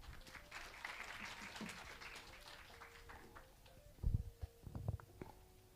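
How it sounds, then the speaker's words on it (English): An audience at a business summit claps in a fairly soft, diffuse round of applause, with a few heavier low thumps near the end as it tapers off. "let's give it a round of applause"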